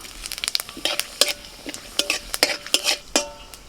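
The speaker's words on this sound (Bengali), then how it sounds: "ডালটা আমি একটুখানি এবার সাঁতলে দেবো" Dried red chillies and whole cumin crackle and sizzle in hot mustard oil for tempering dal while a utensil scrapes and stirs a pan in quick irregular strokes, close and alone.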